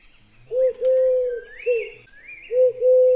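Pigeons coo in smooth, drawn-out notes while other birds chirp and tweet with rising calls, a close and clear sound effect in a bedtime story, with no talk over it.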